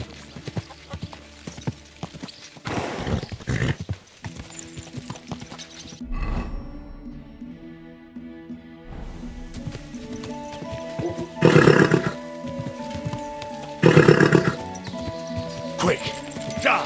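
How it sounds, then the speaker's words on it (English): In Kingdom Come Deliverance II, a horse clatters with hoofbeats, snorts and gives loud whinnying bursts, close by, amid rustling and shouts of speech. "Easy, good horse."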